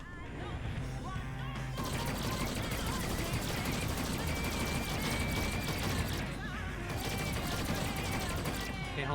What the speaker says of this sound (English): And shoot the missile down.